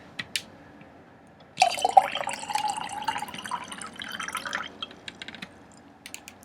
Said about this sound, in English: going to pour some water